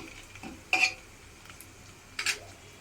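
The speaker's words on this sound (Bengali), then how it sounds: "পেঁয়াজটা আমার হালকা ভাজা হয়ে গিয়েছে, এর মধ্যে একটু নেড়ে দিই" Lightly fried onions in a pan are stirred with a utensil, giving two distinct metallic scrapes against the pan over a faint background sizzle, close and fairly quiet.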